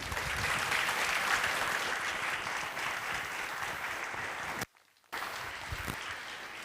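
Sustained audience applause for the panelists at a conference session, a steady dense wash of clapping that briefly cuts out near the end, then resumes, with no speech over it.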